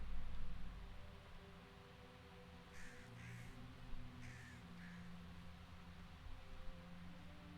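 Crows caw in Baldur's Gate 3, a few short calls clustered mid-scene over a steady low ambient hum, moderately faint and without speech.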